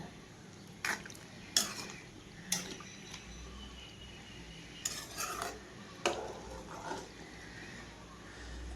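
A spoon stirs cauliflower with turmeric powder in water inside a cooking pot, making scattered sharp metallic clinks and scrapes about once a second over a quiet, wet background.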